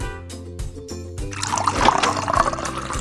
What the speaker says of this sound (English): I was trying to sleep when I heard these water pouring noises.